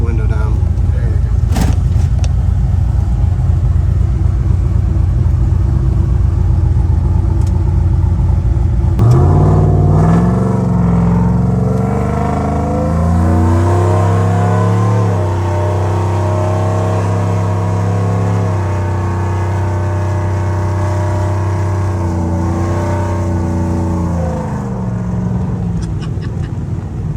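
A supercharged LSA-swapped 6.0 V8 in a 2007 Chevrolet Avalanche truck rumbles low and loud inside the cab, then revs up with rising and falling pitch and holds a deep steady drone; people talk over it.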